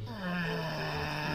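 Snoring sound effect inside the VRChat video game, a single drawn-out nasal drone with a steady low buzzing tone lasting about a second, fairly quiet.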